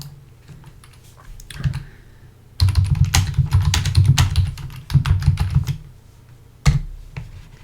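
Computer keyboard keys are pressed while testing a game built in Blender, with a dense flurry of close, crisp clicks and a few isolated taps before and after.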